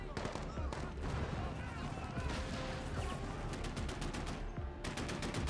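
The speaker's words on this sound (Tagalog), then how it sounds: "pero si Razan mismo ang bumaril sa kanila" Heavy, sustained film gunfire as Razan shoots Taliban fighters: dense automatic bursts and rapid shots pile into a loud, continuous roar with crashing impacts, and no pauses throughout.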